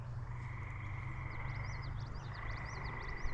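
Frogs croak and trill in quick repeated bursts at sunset, moderately close, over a constant low rumble of distant traffic.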